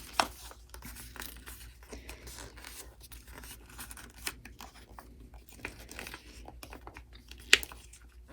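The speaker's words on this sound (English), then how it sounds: "I'll make that soft fold and then a more crisp fold afterwards" Paper book pages being folded by hand for a book sculpture, giving soft intermittent crinkles and crisp creasing taps, close and quiet, with no talking.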